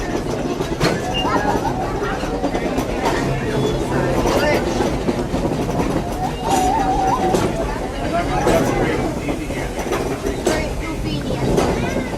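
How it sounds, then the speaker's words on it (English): The Walt Disney World Railroad steam train runs with continuous rumbling and clickety-clack from the wheels, with passengers chattering throughout. "this steam train is a little old-fashioned, but for me, it's the only way to travel"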